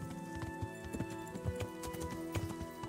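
Horse hooves clip-clopping at a steady riding pace in the medieval video game Kingdom Come: Deliverance, close and rhythmic over a soft music bed.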